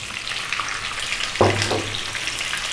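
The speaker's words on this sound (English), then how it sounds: "next up, we're going to be adding our potatoes" Boiled, peeled potato pieces drop into hot oil with a sudden sizzling burst that settles into a steady, soft frying hiss over a few seconds.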